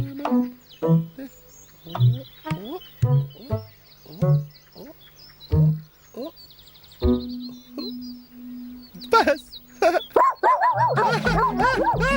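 A dog barks repeatedly at a steady pace, single sharp barks spaced about a second apart, followed by a louder, more frantic burst of yelping barks.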